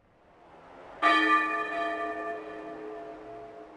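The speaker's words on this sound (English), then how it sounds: "The bells are ringing in East Edge." A single church bell strikes once in the video game OverBlood 2, clear and resonant, its ringing tone slowly fading into a soft hum.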